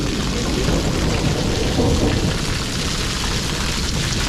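Steady heavy rain pours continuously with a dense broadband hiss and a low rumbling undertone, unbroken throughout.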